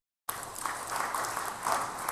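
Steady audience applause at a church or school gathering, a broad wash of many hands clapping at moderate distance, rising briefly near the end after a short silent start.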